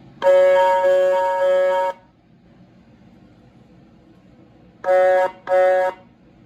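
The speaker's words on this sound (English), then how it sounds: "Got an interesting horn. Actually turn it on and leave it on, it almost sounds like a steamship or something." Horn of a 1/14 scale Mercedes Zetros 6x6 RC truck: a steady electronic horn tone held for about two seconds, then two quick shorter blasts after a pause, close and fairly loud.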